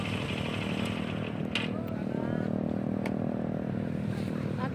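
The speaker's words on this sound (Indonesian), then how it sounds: "keliling-keliling Bromo dengan motor trail." A trail motorcycle engine drones steadily around Bromo, a loud, close buzzing idle with slight revving throughout, while a person talks over it.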